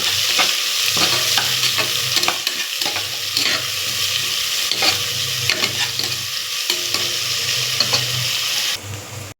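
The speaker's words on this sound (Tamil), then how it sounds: "இதில் லேசாக உப்பை போட்டு வதங்க விட்டிங்கன்னா நல்லா சீக்கிரம் வரும்." Food sautéing with a little salt in a pan for a biryani, a steady broadband sizzle with repeated scraping stir strokes throughout, close and fairly loud, no talking.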